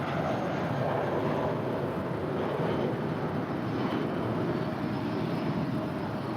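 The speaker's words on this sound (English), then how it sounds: "This arrival on the north side is Delta 2789 coming in from JFK. It's a 767-400ER" A Delta Boeing 767-400ER arriving from JFK lands on the north side at LAX, heard as a continuous broad jet roar, fairly loud and even throughout with no other sounds.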